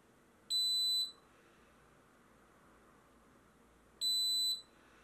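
An Xtool laser engraver fire kit alarm unit gives two shrill electronic beeps, each lasting about half a second and spaced a few seconds apart, over a faint steady hum.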